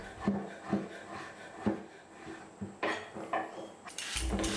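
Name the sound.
knife dicing dried apricots and dates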